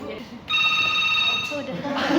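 A telephone rings in an office setting, a steady electronic tone with stacked harmonics starting about half a second in and holding for roughly a second, with people talking around it.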